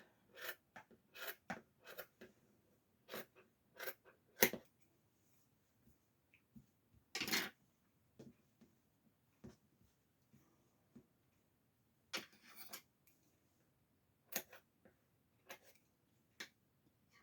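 Scissors snipping yarn braids for a crochet hat, a series of sharp close snips scattered at irregular intervals, with a few longer rasping cuts between quiet handling noises.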